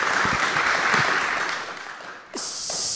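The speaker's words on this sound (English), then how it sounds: "she deserves a round of applause" An audience at a Bitcoin conference session breaks into a round of applause, a dense clapping crowd that thins and dips briefly before a brighter, louder burst of clapping resumes.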